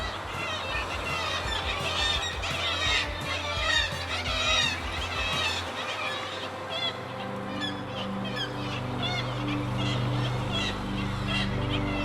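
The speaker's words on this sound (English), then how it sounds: "I stopped to film a group of black-legged kittiwake nesting under a bridge" Black-legged kittiwakes nesting under a bridge give a dense chorus of overlapping harsh calls, loud and continuous, with a low engine-like drone growing underneath in the second half.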